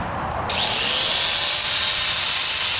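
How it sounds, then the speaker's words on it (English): An angle grinder spins up and bites into a steel cable lock, a steady loud high-pitched grinding whine that holds without a break after a brief quieter start. "Okay, I'm going to turn the angle grinder on."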